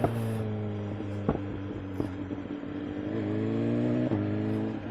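A BMW M1000XR motorcycle engine hums steadily while riding, with several sharp clicks and brief dips as gears change and the revs climb again, heard close.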